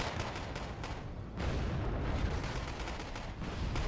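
A heavy 1,000 pound bomb goes off in Wargame Red Dragon, a thick, dense rumble that swells midway and keeps rolling with crackling impacts across the battlefield.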